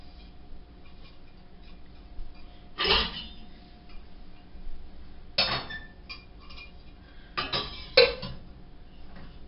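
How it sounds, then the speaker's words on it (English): Dishes being washed, with three separate clattering knocks of pots and cutlery spaced seconds apart against a quiet background, fairly close and without speech. "That's just what happens when you do dishes."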